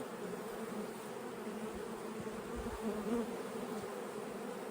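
Honey bees buzz in an apiary among clover, making a faint, steady droning hum of many insects with no voices.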